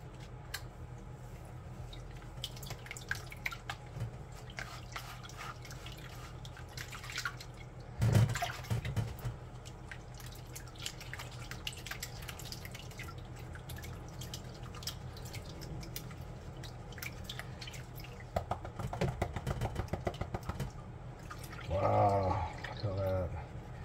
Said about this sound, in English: Let's give this a quick pan, huh?